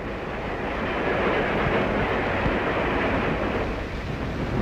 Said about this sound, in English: Along New River in Virginia, the Powhatan Arrow streaks by, one of our finest trains